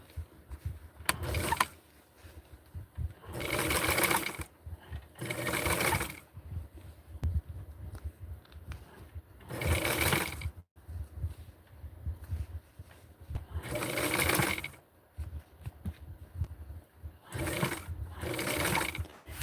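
Sewing machine stitching a doll's MOD dress, running in repeated short bursts of rapid whirring with quiet pauses between, close and clear with no talk.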